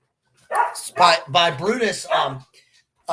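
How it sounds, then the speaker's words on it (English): A pet dog barks and yelps in a few short, close bursts over roughly two seconds, mixed with a person's speech in a quiet indoor room. "My doggy barking."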